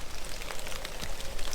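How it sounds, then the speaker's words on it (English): Meltwater from an ice storm drips steadily off trees onto the ground, a soft, dense patter of many drops like light rain, continuous and fairly quiet, with no talking. "All the ice is melting off the tree. It makes it seem like it's raining in here."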